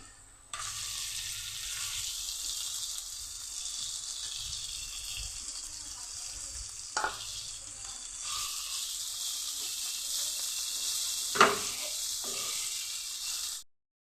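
Potato and spiny gourd paste frying in a pan after chopped onions, a steady close sizzle with occasional stirring knocks, running for the whole stretch without talk.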